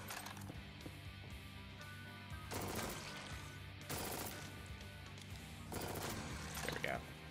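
A sentry chain gun turret fires in the sci-fi shooter game Jupiter Hell, rattling out sustained automatic bursts over a dense game soundscape, with a few sharper volleys standing out.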